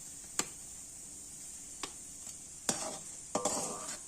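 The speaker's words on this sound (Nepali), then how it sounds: "अब चलाउँदै राख्नुपर्छ पिठो, मकैको पिठो" Maize flour being stirred into boiling water in a pot for Nepali dhido: a faint simmering hiss broken by a few distinct scraping, knocking stirs, the last ones longer and louder, close and quiet with no talk.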